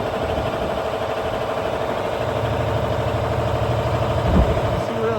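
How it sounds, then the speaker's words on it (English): N14 Cummins diesel truck engine idling smoothly with a steady low rumble and rhythmic chug, close and continuous, with some light talk partly over it. "It's that N14 Cummins"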